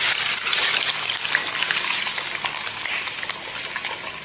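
Catfish pieces tipped into a pot of hot caramel sauce for Vietnamese clay-pot braised catfish with green peppercorns, giving a loud, steady frying sizzle with crackles and spatters throughout, no talk.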